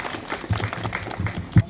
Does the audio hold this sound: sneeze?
no